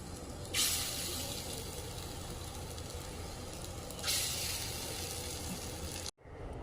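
Bora fritters frying in hot oil, a steady close sizzle and hiss throughout, swelling louder in two bursts as more batter drops in, then cutting off briefly near the end.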